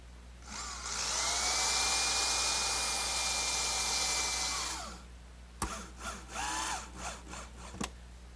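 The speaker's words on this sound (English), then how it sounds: "I'll secure the saddle as I did with the sides, using some glue, pre-drilling some pilot holes," A power drill bores pilot holes into the wooden saddle of a rocking horse, a loud sustained whine of about four seconds, then several shorter bursts and clicks close by.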